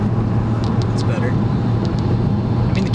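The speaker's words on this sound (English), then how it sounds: "the cabin noise, honestly, isn't even that bad considering how bare bones this car is" Inside a bare-bones car with a 2-liter inline-6 engine while driving, a steady low rumble of engine and road noise fills the cabin, constant and moderately loud.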